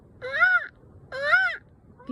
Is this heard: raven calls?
yes